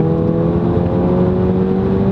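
A 2015 Volkswagen GTI hot hatch pulls hard in third gear, its engine droning in a steady, loud, sustained tone from inside the cabin with no break or shift, no voices over it.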